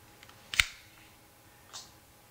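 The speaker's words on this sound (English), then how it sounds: "the sliding mechanism has a nice sound to it" A Palm Pre 2 smartphone's slider mechanism snaps open with one sharp, close click, followed about a second later by a softer second click, in an otherwise quiet room.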